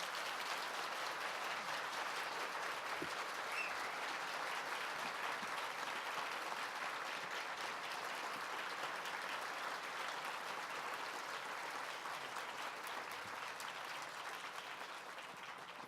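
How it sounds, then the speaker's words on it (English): An audience at an author panel gives a long, even round of applause, dense clapping that holds steady for the full stretch without a break. "let's give a giant round of applause"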